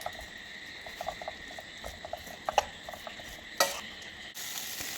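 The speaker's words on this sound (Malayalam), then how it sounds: "കോളിഫ്ലവർ ഇട്ട് കൊടുത്തൊന്ന് ഇളക്കി കൊടുക്കണം നല്ലതുപോലെ" Cauliflower stirred into a spice masala in a pan makes faint, soft scraping taps under a low sizzle, with a couple of sharper knocks against the pan near the end.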